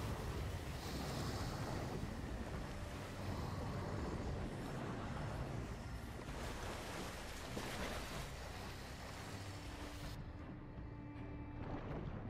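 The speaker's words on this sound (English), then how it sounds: "So you're behind the waterfall then." A waterfall roars in the Darksiders video game, a dense, continuous rushing wash that stays steady and loud throughout, with slightly less hiss in the final seconds.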